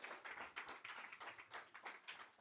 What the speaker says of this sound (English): clap right now. Clap.